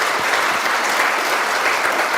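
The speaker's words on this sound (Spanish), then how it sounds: "Un aplauso para el ponente." An audience at a memorial tribute session in Teotihuacan applauds a speaker, steady dense clapping from a crowd filling the whole moment without pause.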